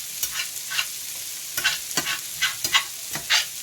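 Thinly sliced cheesesteak beef frying on medium-high heat and being scraped and shredded in a pan, with the sizzle broken by repeated close scraping and stirring strokes and no talking.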